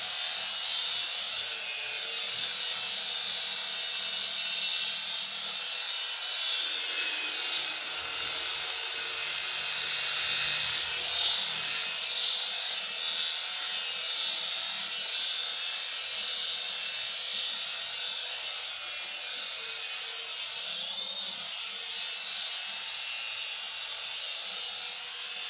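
A small Sega Sonic licensed RC toy helicopter hovers nearby, its rotor and motor producing a constant high-pitched whirring buzz that holds steady throughout with slight wavering in intensity.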